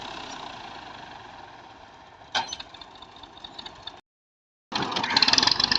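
An old-model Massey 240 tractor idles with a steady mid-pitched chug and a brief louder clatter partway through. It cuts out completely for a moment, then returns louder and rougher.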